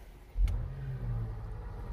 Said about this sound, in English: And there's the neighbor starting up his car.